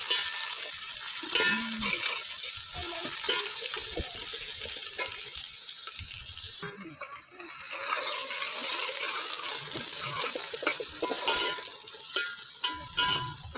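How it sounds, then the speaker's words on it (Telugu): Fenugreek leaves sizzle and crackle in a hot pan as the base for a fish curry, a steady soft frying hiss with occasional stirring scrapes throughout. "మెంతుకూర వేస్తున్నా బాగా ఫ్రై అవ్వాలి"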